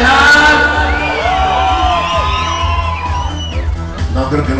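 A dance hall crowd lets out a long, loud collective yell and whoops, many voices rising and falling together for several seconds over the booming bass of a live sound system.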